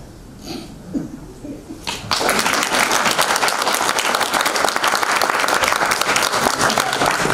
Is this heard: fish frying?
no